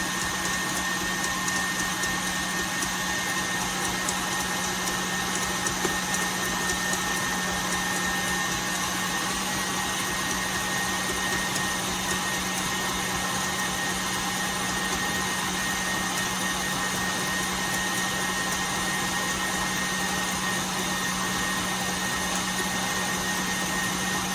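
An electric mixer whirring steadily as it beats egg whites with sugar and cream of tartar for a fresh lemon pie, a constant close motor drone with no pauses.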